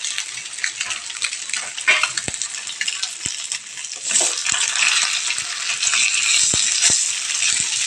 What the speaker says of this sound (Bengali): মাছ ভাজাটা এদিকে হোক